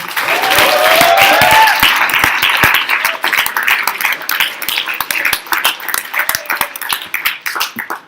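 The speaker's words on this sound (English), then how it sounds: "Let's give everybody a round of applause again." An audience at a presentation session bursts into loud, dense applause that tapers into scattered claps over several seconds, with a brief voice rising early on.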